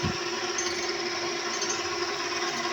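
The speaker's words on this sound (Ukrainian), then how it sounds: "Мотор включений." A milling machine's electric motor runs steadily with a constant mechanical hum and whine, loud and close, holding an even pitch throughout with no voices.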